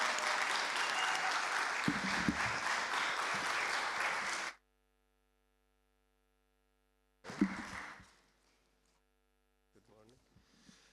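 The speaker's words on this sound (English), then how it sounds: "Let's give them applause, please." An audience at a folk music seminar in Kaustinen, Finland, claps in a full, even burst for about four seconds before an abrupt cut to silence, then a shorter, fainter stretch of clapping returns with mains hum beneath.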